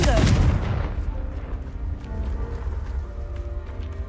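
Spell explosion from Confringo in the Hogwarts Legacy video game: a loud, deep blast at the start that decays into a rumbling fiery tail, with game ambience continuing underneath.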